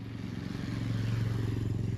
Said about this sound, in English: we got one more motorcycle